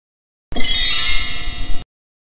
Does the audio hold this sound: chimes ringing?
yes